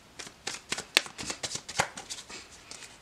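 Tarot cards being shuffled and handled during a reading, a rapid series of crisp riffling snaps and soft card flicks, close and fairly quiet, with no talking.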